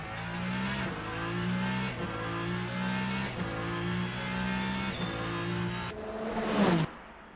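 A race car in an rFactor 2 sim racing game drones at steady high revs with regular gear-shift dips, a faint tire whine above, then a final rising rev before cutting off.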